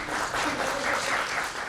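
An audience applauds between speaker introductions at a talk on stretching techniques for spasticity pain, a steady, moderately close wash of clapping, with a faint voice underneath.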